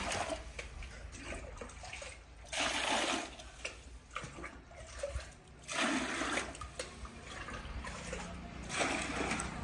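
Water poured and sloshed into a container for mixing plaster while making a clay Ganpati idol; several bursts of splashing and gurgling pouring come in waves, close and fairly loud, with quieter trickling between them and no talking.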